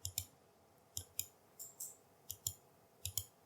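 Computer mouse clicks in crisp close pairs, five quick double taps spaced through a quiet room, sharp and isolated with no voices.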